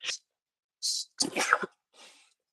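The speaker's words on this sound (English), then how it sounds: "That was the first sneeze that was captured online." A short, sharp sneeze bursts out between brief breathy sounds, close and fairly loud, followed by a faint trailing exhale.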